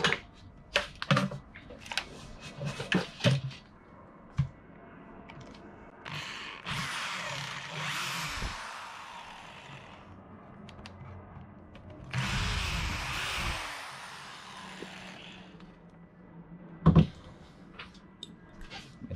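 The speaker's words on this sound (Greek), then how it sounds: "Οπότε θα χρειαστούμε το τρυπάνι μας." A power drill bores holes while a lionfish collector is being built, in two loud, whirring bursts of several seconds each, separated by handling clatter and knocks.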